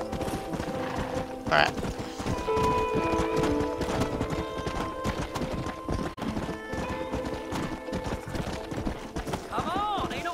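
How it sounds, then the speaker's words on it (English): Horse hooves clip-clop steadily at close range while riding in Red Dead Redemption, with a brief whinny and someone speaking over the hoofbeats. "Come on, horse. There we go. There's my war horse."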